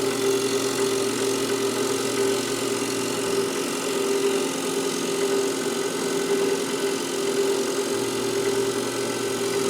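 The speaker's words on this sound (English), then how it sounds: "So my first task is to make this nice and round, to true it up. And I use my 5/8 bowl gouge" A wood lathe turns a maple bowl blank while a 5/8 bowl gouge trues it round, giving a steady, close motor hum with a faint rougher texture of cutting underneath, continuous and without talk.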